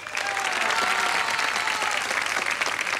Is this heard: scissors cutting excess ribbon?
no